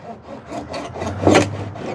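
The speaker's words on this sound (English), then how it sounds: "it's definitely sawing through some stuff" Rough rhythmic rasping strokes of braided line sawing back and forth through fibrous material on an R34 Skyline exterior, repeating about twice a second with a louder stroke near the end.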